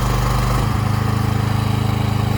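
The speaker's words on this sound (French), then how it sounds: "Il faut maintenir jusqu'à l'arrêt complet du moteur." The engine of a Kompak 52 ft aerial lift runs loud and close, then slows to a steady, rhythmic low chug, with no talk.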